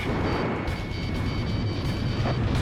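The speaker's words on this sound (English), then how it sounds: "Sam destroyed! Missile off target. Missile hit." Missile strikes and explosions pound a SAM site in Ace Combat Zero, heard as a continuous dense rumble of blasts and detonations over a steady jet-engine drone.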